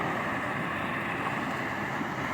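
River water rushing through a man-made channel at a city park in Yale, Michigan, a steady broadband wash close by with some wind buffeting, no voices.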